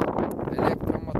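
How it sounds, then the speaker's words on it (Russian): Strong wind buffets the microphone outdoors by the water during a boat electric motor test, a loud, continuous low rumble with gusty swells. "Ветер."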